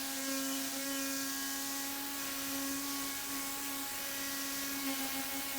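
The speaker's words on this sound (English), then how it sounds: "we're going to hit this whole panel in its preparation for the ultra fine polishing compound with a white pad" A polisher running with a white finishing pad on a moped panel gives a steady, close mechanical whine with a strong unwavering tone, continuous and alone, with no voices.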